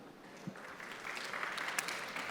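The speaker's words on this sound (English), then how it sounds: "give Cordell a round of applause" Conference audience at TOKEN2049 Singapore applauding a speaker, a soft, steady wash of clapping that swells slightly toward the end, heard alone.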